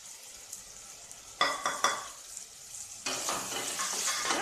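Masala sautés in oil with softened tomatoes for chana biryani: a low, steady sizzle punctuated by sharp spoon-on-pan scrapes and stirring bursts, close up and without voices.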